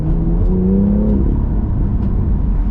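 BMW car engine revving while driving, a loud rising then falling throaty growl heard close up, with no talking.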